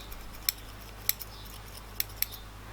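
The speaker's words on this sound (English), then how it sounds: "Then I go in with a pair of scissors and I trim them" Scissors trimming bangs on a wig or hair piece, four quiet, crisp snips spaced irregularly over a faint background hum, close by, with no talk.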